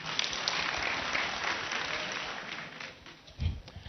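A crowd claps for a speaker at a UDA comrades chapter political gathering in Kisii, steady moderate applause that fades out toward the end, followed by a brief thump.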